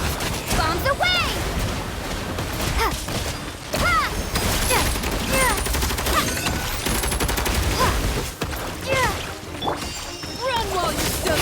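Bombs detonate during a Genshin Impact Archon Quest battle, a dense run of booms and crashes over constant game music and combat effects, with character voice lines shouting across it.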